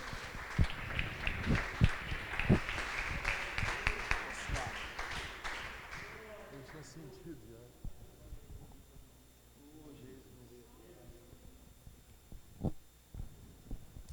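A church congregation applauds in a loud, dense burst that fades after several seconds into quieter room noise with a voice speaking.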